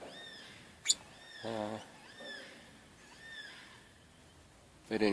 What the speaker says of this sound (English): You can hear a yellowtail black cockatoo in the background.